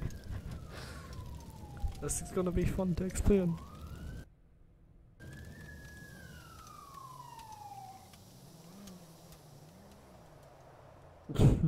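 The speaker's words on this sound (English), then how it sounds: "I can hear the sirens already." Police sirens in the Real RP 2.0 roleplay video game, a wailing tone that sweeps down and up twice at moderate level, with someone talking over the start and game sounds around it.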